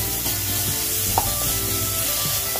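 Mustard seeds, cumin and a chili mixture sizzle in hot oil as a tempering, a loud, even crackling hiss with one brief sharp pop midway and no voices.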